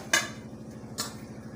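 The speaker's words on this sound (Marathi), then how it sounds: "हे आता मी कढईमध्ये मिक्स करते सगळं एकत्र" Two sharp metallic scrapes of a utensil against a wok while mixing jaggery, spaced about a second apart, over a steady low hum.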